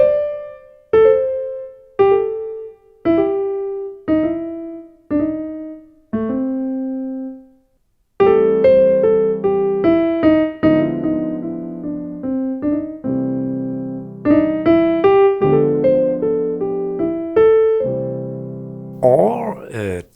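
Blues piano lines with grace notes, single notes struck in a steady slow sequence, then fuller chords and quick ornamented figures, close and clear with no talking.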